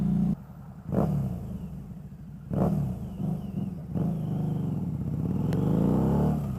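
A motorcycle engine on a city street gives several sharp revs, each a quick loud burst of rising pitch, then settles into a rough, rising drone up close.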